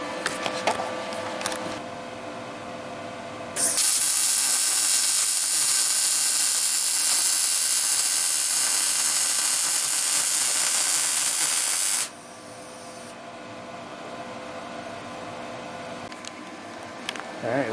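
A PrimeWeld MIG180 MIG welder lays a bead on 3/4 inch tubing, giving a loud, steady crackling hiss that runs unbroken for about eight seconds before cutting off, with quieter ambient noise before and after.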